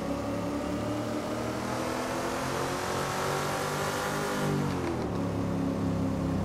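A Corvette's engine in the Assetto Corsa racing game roars loud and continuous, a rising revving tone that dips sharply around the fifth second before climbing again, with no talk over it.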